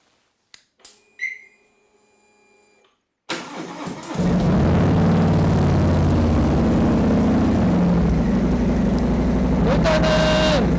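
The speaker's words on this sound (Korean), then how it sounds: "SNS 머플러의 배기 사운드를 한번 들어보고요" A 2019 Harley-Davidson Softail Fat Bob with an SNS muffler cranks after a few clicks and beeps, then fires into a loud, deep, rumbling exhaust idle that holds steady at close range, with a short whine near the end.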